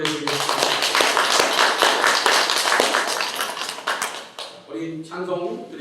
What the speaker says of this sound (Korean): 우리 함께 하시는 우리 하나님께 영광의 박수 올려드리겠습니다